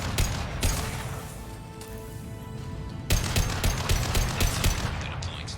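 Rifle and pistol gunfire from the Mass Effect 2 video game, a steady stream of close, sharp shots with a loud fresh burst about halfway through and repeated cracks after it.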